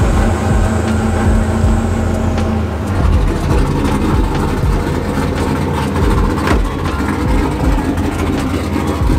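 A drift car's engine runs while the differential is warmed up, with a loud, close, low rumbling idle and bursts of revving, together with clanking and shop noise across the whole stretch.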